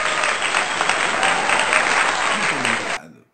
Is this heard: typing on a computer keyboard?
no